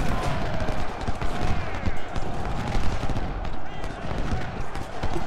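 Loud, dense musket volleys roll continuously across a Civil War battlefield at Malvern Hill in Ultimate General: Civil War, with overlapping crackling shots and battle noise throughout and a voice occasionally shouting over it.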